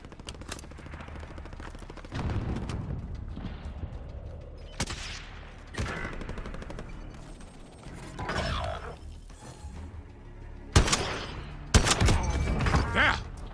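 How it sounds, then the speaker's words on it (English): Bursts of gunfire from Call of Duty Warzone in Plunder mode, loud and irregular, sometimes rapid automatic fire, scattered across the stretch with quieter gaps and game sounds between them. "I'm taking fire!"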